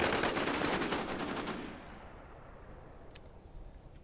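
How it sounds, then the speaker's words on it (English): A rapid, loud burst of automatic gunfire in the video game War Inc. Battlezone rattles for about a second and a half, then dies away into quiet background noise with one faint click. "Yeah, you can totally shoot behind that wall."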